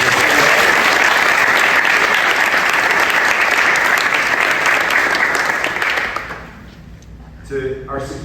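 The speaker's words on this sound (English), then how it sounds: "join me in giving a round of applause to the incredible educators and staff who make this organization what it is" Loud, dense applause from an audience at a school ribbon-cutting ceremony, a sustained roar of many hands that fades out after about six seconds before a brief voice is heard.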